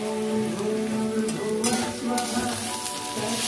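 Chicken sizzles loudly in a hot pan alongside potatoes and onions, a steady crackling fry with occasional stirring scrapes, close up and with no talking.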